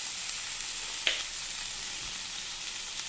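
Tomatoes sizzle and fry steadily in a pan while masala oats cook, a continuous close hiss with one brief clatter of a utensil partway through.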